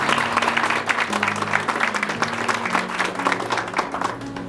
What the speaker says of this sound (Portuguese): para os quais eu peço uma salva de palmas